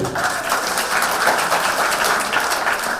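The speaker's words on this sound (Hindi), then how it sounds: "कम से कम इस बात पे तो आप लोग ताली बजा दें" An audience at a mushaira poetry gathering of the Kadapa Muslim Youth Association claps steadily, a dense continuous patter of many hands without talk.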